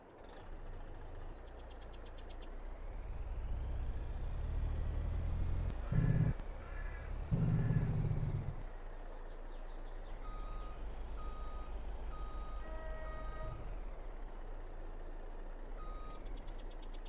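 A truck drives and reverses on Graystone Farm in a farming video game. A steady engine rumble runs throughout, with a brief hiss of air brakes and repeated reversing beeps that sound clearly over the engine.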